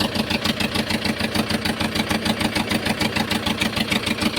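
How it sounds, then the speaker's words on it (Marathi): A Ruston engine on a fishing boat chugs steadily, a loud, close, rhythmic thumping that keeps an even beat throughout. "मित्रांनो इंजिनचा आवाज असल्यामुळे काय आवाज क्लिअर येणार नाही. आणि ही आमची इंजिन आहे 2चा रस्टन"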